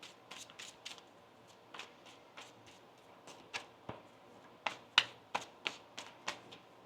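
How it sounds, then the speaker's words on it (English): Tarot cards being shuffled: crisp riffling snaps and taps repeat in irregular bursts, close and fairly quiet, with no voice over them. "One more shuffle here."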